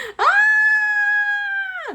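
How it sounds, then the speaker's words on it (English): A woman lets out one long, loud, sustained scream of frustration over a book, held steady for nearly two seconds and then dropping off sharply at the end. "So that's me screaming because I can't even with this book."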